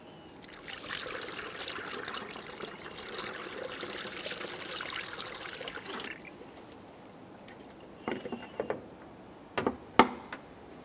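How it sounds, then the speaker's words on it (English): Coolant is poured through a funnel into the coolant reservoir of a Toyota Sienna, a soft, faint trickle for several seconds that then stops, followed by a few light plastic clicks. "it's a good idea to top off the coolant"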